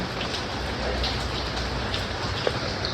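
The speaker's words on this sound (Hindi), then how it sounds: "बारिश बहुत तेज़ है" Steady, dense heavy rain pours continuously on a village with a constant hiss and scattered drops, no voices present.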